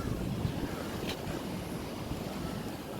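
Steady sea surf washes and hisses at a seafront beside a mosque at Nagore, mixed with constant wind rumble on the microphone; no voices.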